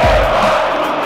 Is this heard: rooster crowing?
no